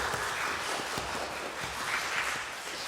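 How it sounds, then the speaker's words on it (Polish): Audience applause for a string quartet from a philharmonic at the close of a show, a steady wash of many hands clapping at moderate level throughout, no voices. "Poproszę o oklaski dla całego kwartetu Dentego Filharmonii!"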